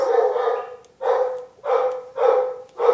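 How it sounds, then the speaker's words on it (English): Dogs bark in a quick series of four or five loud, close woofs, evenly spaced with short gaps between, and no voices. "My dogs keep on barking"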